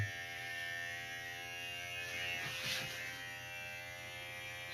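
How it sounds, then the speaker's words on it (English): Electric hair clippers shave hair, giving a steady close mechanical buzz with constant hum that swells slightly midway as the blades pass through hair. "We'll just take the clippers"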